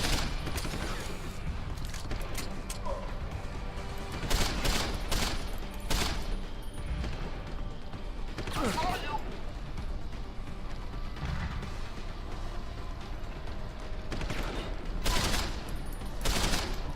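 Gunfire in the video game Deus Ex: Human Revolution, with repeated bursts of sharp shots, crashes and rattling mechanisms scattered across a busy, loud combat soundscape, with no one speaking over it.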